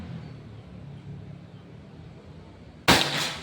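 Predator Pajero Gen 6 air gun firing a single sharp shot near the end after quiet background hiss, loud and abrupt with a short tail.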